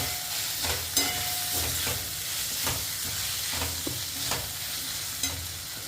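Vegetables and noodles for veg Hakka noodles, Indian street-food style, sizzle steadily in a hot pan while being stirred, with a constant frying hiss broken by periodic scraping clacks of the spatula.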